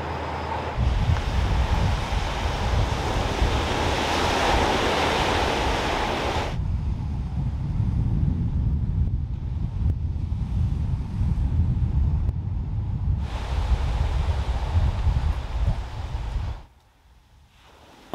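Sea waves washing against the shore at a beach near Kochi, Japan, a steady loud surge mixed with wind noise on the microphone, alone without voices, easing for a moment before cutting off near the end.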